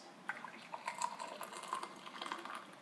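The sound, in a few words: boiling water poured from kettle into glass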